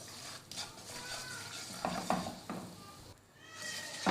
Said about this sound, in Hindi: अब हम इसी ऑयल में जो है वो मैदा ऐड करेंगे और मैदे को अच्छा सा भूनेंगे।